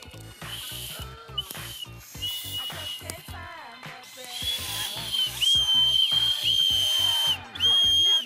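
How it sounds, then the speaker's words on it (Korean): A shrill, piercing whistle made by blowing through cupped hands, sounding in repeated bursts that grow louder and steadier toward the end, with some faint voices around it. "호루라기 불 때 틈이 좀 더 커야 되고 손으로 꽉 잘 막아주고"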